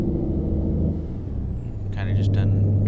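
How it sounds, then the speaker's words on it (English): A heavy truck engine in American Truck Simulator rumbles low and steady, with short hissing bursts like air brakes near the end, and a voice talking over it. "just let you guys listen to the trucks and stuff like that."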